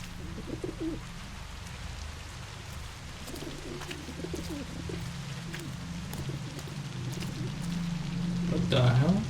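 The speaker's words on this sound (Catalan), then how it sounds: "Ostres, quants coloms? Tots aquests hi eren abans?" Pigeons cooing in the Observer video game, with soft, low, repeated coos over a steady hiss like rain, growing louder and closer toward the end, with a voice murmuring faintly underneath.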